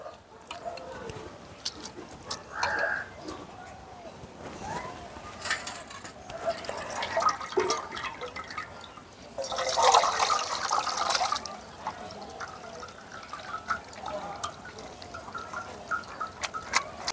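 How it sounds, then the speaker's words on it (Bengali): Water draining off freshly washed potatoes in a kitchen, a soft, continuous trickle and splash that swells briefly into a louder gush midway, fairly quiet throughout with a faint voice in the background. "এখন জলটা ঝরিয়ে নেব"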